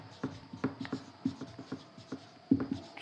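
Hand-writing a maths equation, likely on paper: a rapid run of short scratchy strokes and taps close to the mic, irregular in rhythm with brief pauses between bursts and no talking.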